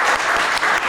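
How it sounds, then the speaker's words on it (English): Sustained audience applause with a standing ovation for a skateboarder at an Adidas skate event in Los Angeles, dense and continuous clapping filling the room with no gaps. "The applause just keeps going, huh?"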